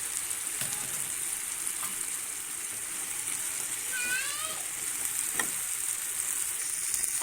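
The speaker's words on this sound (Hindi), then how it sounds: "अब मैं इसमें ये भिंडी शामिल करने लगी हूँ।" Okra sizzles quietly in a tomato masala in a pan, a soft steady hiss with a few faint stirring knocks and a brief squeaky scrape, nearby but low in level and without speech.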